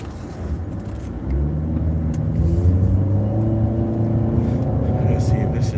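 Road noise from a car driving in traffic on the way to the 405 south freeway, a steady low engine rumble that swells a little and holds, with someone talking over it throughout.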